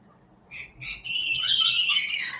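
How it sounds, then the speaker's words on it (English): Several birds chirp and trill close by on a balcony, bright overlapping calls that build after a short pause into a steady busy chorus. "The birds are here."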